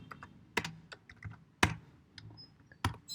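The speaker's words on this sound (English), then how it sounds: "Over here, I'm going to be typing" Fingers type on a computer keyboard while code is being written, producing irregular close key clicks with a few louder strikes, and no voices.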